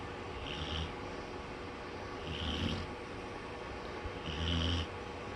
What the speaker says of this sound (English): You're snoring up a storm.